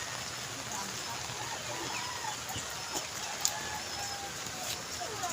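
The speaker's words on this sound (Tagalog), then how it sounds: "Ayan yung mga alaga kong ibon." Heavy rain hisses steadily over a yard in Norsagaray, Bulacan, where soaked pet pigeons give faint, sparse calls among the downpour; no clear talk.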